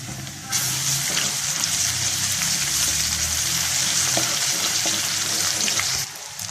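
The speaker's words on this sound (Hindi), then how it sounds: "हम इसमें लहसुन अदरक का पेस्ट डाल देते हैं, इसको भी फ्राई कर लेते हैं अच्छे से।" Continuous loud sizzling of garlic ginger paste frying in a hot pan, steady crackle with occasional stirring clicks, starting abruptly and fading at the end.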